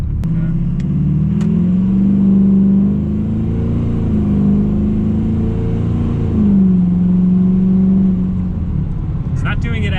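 A Duramax diesel truck engine with an exhaust leak runs steadily, a sustained whine riding over the low rumble and rising and falling slightly across the clip, with voices talking over it.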